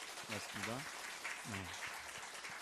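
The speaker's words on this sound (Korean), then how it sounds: "우리 박수로 한번 격려했으면 좋겠습니다." A church congregation applauds the choir during a Sunday service, a faint, steady wash of clapping under someone speaking a short phrase near the microphone.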